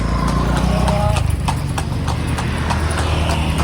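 A working horse pulling a carriage through Lampang, Thailand, its hooves striking in a steady, even clip-clop rhythm close by, with people talking over the constant rolling noise.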